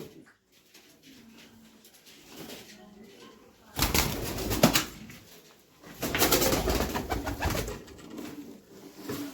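Pigeons coo and flutter close by, with two louder bursts of wing flapping and scuffling midway, over a low murmur of background noise.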